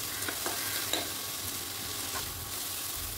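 Cauliflower lightly frying in a pan, a quiet, even sizzle with a few soft stirring scrapes near the start.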